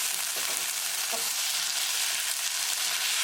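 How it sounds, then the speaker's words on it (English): Tomatoes stirred into translucent frying onions give off a loud, dense, constant sizzle up close, with faint soft stirring movements beneath it. "Add tomatoes. Mix it well."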